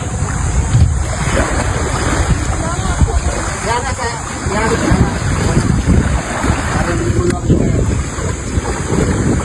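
Ocean waves churn and splash loudly under strong wind buffeting the microphone, with people talking over the rough water.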